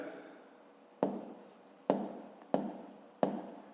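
Pen or pencil strokes on paper while writing numbers for a fifth-grade math division problem: four short, soft scratching bursts at irregular intervals, close and quiet.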